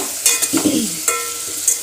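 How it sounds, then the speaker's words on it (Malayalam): Chopped tomatoes are sautéed with fried onions in a pan, producing a close, loud sizzle with repeated clattering stirs and scrapes. "അതിലേക്ക് ഇതാ തക്കാളി ഇട്ട് തക്കാളി നല്ലോണം വഴന്ന് വരട്ട്"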